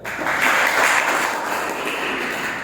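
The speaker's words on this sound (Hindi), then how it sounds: "अनु मानी के लिए जोरदार तालियां।" Audience in a classroom or school assembly applauding a girl student who stood up, a steady, dense clapping that holds at fairly even loudness for the whole stretch, with no talk over it.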